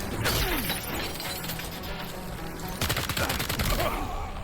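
An assault rifle fires in Death Stranding 2: On the Beach during a fight with bandits, a loud stretch of rapid shots and cracking impacts over dense game noise.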